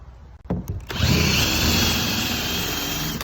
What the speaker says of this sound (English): So I wasted a lot of time with this eraser wheel, not knowing that this one is the one.